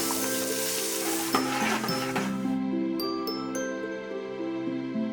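Potato slices, soybeans and peanuts deep-fry over low heat in oil, with a dense steady sizzle joined by light clinks of a utensil against the pot, while a background tone hums along.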